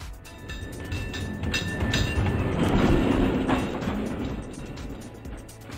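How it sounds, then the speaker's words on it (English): A cable car rolls along with a continuous rumbling and rattling mechanical clatter and faint high squeals, steady and moderately loud throughout. "Cable car."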